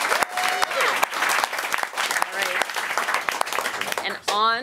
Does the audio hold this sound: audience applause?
yes